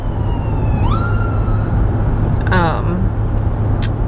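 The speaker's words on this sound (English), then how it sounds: "There goes an ambulance." A wailing ambulance siren sweeps past in bursts, moderately close, over steady road and traffic noise, with a person talking nearby.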